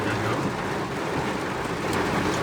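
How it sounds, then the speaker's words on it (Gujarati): Dense, continuous hiss of heavy rain pouring down, steady and loud throughout with no breaks. "કેવો વરસાદ આવે"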